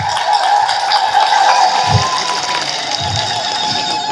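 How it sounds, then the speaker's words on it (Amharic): Live audience at an Ethiopian Orthodox sermon clapping on request, a dense continuous wash of applause and crowd noise that stays steady and loud throughout. "እስኪ አጨብጭቡ አንድ ጊዜ ግን"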